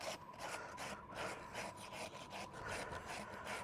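A farrier's rasp works down the heel of a horse's front hoof in repeated rough strokes, each a scraping rasp in a steady back-and-forth rhythm, close and moderately loud.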